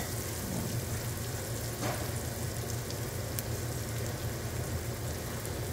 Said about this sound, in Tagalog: Tapos lagyan na natin yung sibuyas.